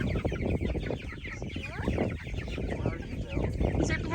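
Chickens cluck loudly and close by at a backyard chicken tractor, with overlapping calls in a continuous busy chorus and no pause.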